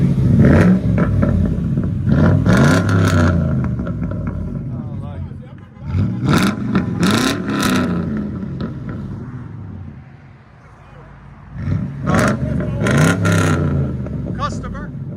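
A deep 4.6L V8 exhaust on a 2008 Ford Crown Victoria Police Interceptor with a Carven TR-Series muffler rumbles and revs hard several times, loud and close, each burst rising then falling back to a throaty idle.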